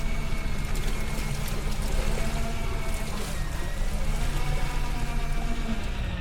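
Steady rain falling on a boat during deep sea fishing, a dense, continuous hiss over a low engine rumble, loud and close with no break throughout.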